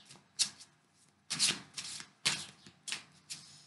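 Tarot cards slide and rub against each other on a table, giving several short dry swishes and flicks at an uneven pace, close and fairly quiet.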